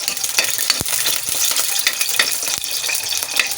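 Garlic sizzles as it is sautéed in a pan for chicken adobo, with a steady frying hiss broken by a few sharp scraping clicks of the stirring utensil, close and fairly loud, no talking.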